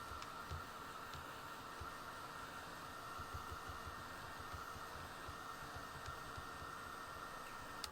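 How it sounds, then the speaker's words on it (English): A Ranger Heat It heat tool blows hot air to dry layered watercolor pencil work, a steady whirring hiss like a small hair dryer running continuously at an even level, with no talking. "this is the Ranger Heat It tool"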